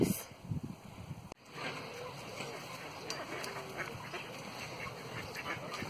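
Ducks quack around people feeding them outdoors, a busy mix of calls under steady ambient noise and a brief sharp knock near the start; voices are faintly present.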